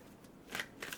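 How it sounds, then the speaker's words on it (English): A deck of tarot cards is shuffled by hand in two quick, soft riffling bursts, close by and fairly quiet against a faint background hiss. "Let me shuffle and pull the third card."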